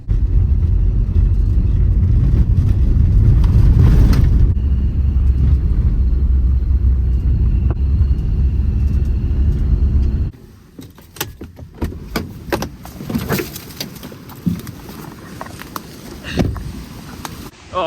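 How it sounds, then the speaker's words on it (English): Strong storm wind roaring heavily and steadily for about ten seconds, then dropping away to gusty buffeting and handling rattles as the setting changes. "you can hear the wind absolutely raging here"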